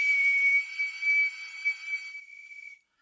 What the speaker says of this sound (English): So if I whistle with a constant tone